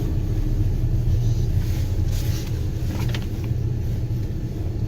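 A car rumbles steadily outside, a deep continuous low drone at moderate distance with faint higher engine tones drifting in, no voices.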